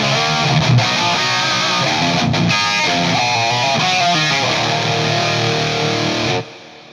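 A distorted electric guitar from a Cort KX500, played through a ToneX pedal on the Set to Explode preset, chugs out a loud, steady rhythm part that cuts off abruptly at the end.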